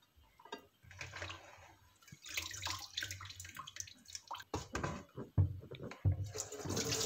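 Banana blossom washed by hand in a basin of water, with sloshing, splashing and dripping that grows busier and louder, punctuated by sharper splashes near the end.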